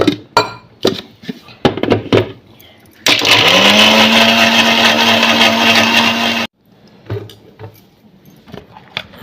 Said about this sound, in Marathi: आता हे मिक्सरमध्ये बारीक करते आणि मिरच्या पण मिक्सरच्या भांड्यात बारीक करते